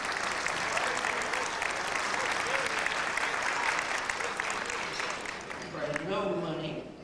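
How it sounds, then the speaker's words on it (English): An audience at a Greek TV dinner dance applauds the crew, a sustained dense clapping that runs steadily and eases slightly near the end, where a voice briefly cuts in over it. "I expect some proper applause for all these people"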